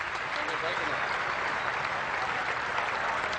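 A cricket crowd at a South Africa versus Australia Test match in the Cricket 2002 video game applauds in a steady, loud wash of clapping and cheering that continues throughout.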